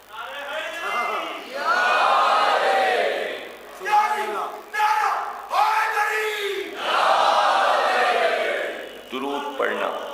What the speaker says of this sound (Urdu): اس کا ثبوت ہے مجمع کا نعرے لگانا